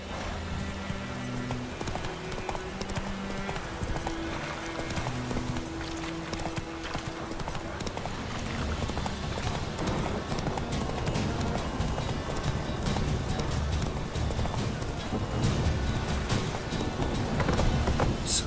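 A horse gallops in The Witcher 3 video game, its rapid hoofbeats steady and continuous under game music and ambience, growing slightly louder toward the end.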